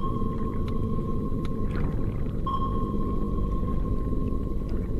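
Whale vocalizations underwater in Arctic waters near Lancaster Sound: a steady tonal call with a faint higher harmonic, broken by brief clicks and a short burst, over a constant low rumble of water noise.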